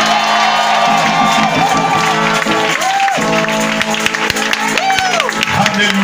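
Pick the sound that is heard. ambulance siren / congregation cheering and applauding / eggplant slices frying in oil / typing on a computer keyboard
congregation cheering and applauding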